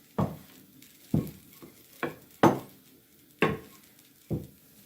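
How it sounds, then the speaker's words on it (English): Bursts of sizzling from roti frying in a hot pan, six of them at a steady, roughly one-second rhythm, with no talking. "And that one is frying so long"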